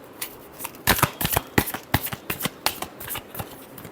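Tarot cards are shuffled close by in a quick, irregular run of crisp riffling flutters and snaps. No talking is heard.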